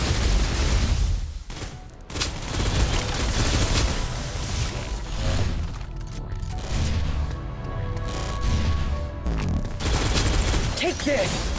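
Sustained suppressive gunfire from the video game Snowbreak: Containment Zone, with dense bursts of shots and mechanical clatter. It runs loud and continuous, and game voices speak over parts of it.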